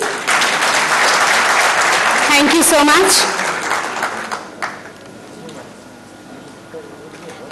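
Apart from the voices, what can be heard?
audience applause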